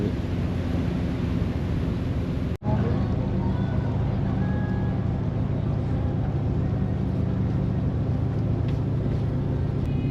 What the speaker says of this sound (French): Ouais, c'est assez impressionnant, il y a énormément de bateaux.